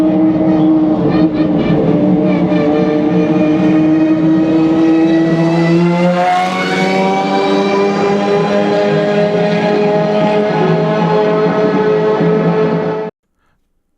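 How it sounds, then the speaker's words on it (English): A Pagani supercar rolling back into the pits in the racing game Assetto Corsa, its drivetrain whine layered over a loud engine tone that holds steady, swoops up midway, then carries on before cutting off abruptly. "one thing Assetto Corsa has is kind of the drivetrain whine to it"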